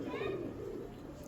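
A single pigeon in a home loft gives a brief, faint coo that fades quickly under quiet room ambience.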